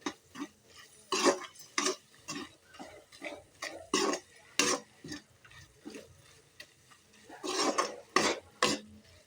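A utensil scrapes and stirs in a pan in short, irregular strokes while cooking turkey berry curry, with soft sizzling between them and no talking.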